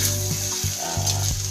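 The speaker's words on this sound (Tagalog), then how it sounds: "na medyo ma-fried yung ating rice" Rice frying in a pan for fried rice, a steady close sizzle with a low hum and periodic scraping stir strokes roughly every third of a second, with no talking.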